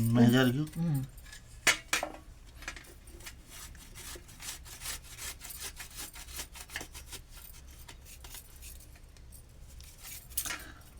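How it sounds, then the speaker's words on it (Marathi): White turmeric root grated by hand, rapid rough scraping strokes against a grater in a fast uneven rhythm, close and continuous, with a voice briefly heard at the start. "नाजूक हाताने आपण किसून घेत आहोत हे हळद"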